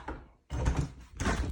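Stuck basement door being tried, with two bursts of loud rattling and thumping as it is pushed and pulled, separated by a short pause.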